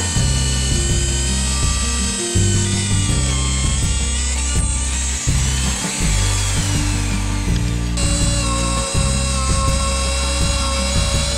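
A power drill bores holes into a wooden roof beam, its motor whining loudly and steadily in close, repeated bursts as the pitch shifts under load.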